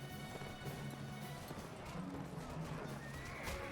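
In Mount and Blade Warband, a mass of cavalry gallops with a dense rumble of hooves while horses neigh and whinny over it, loud and busy like a close battlefield charge.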